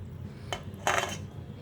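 Chicken marinade of yogurt and lemon juice stirred in a bowl, giving two short scraping clinks of a utensil against the dish over a low background hum.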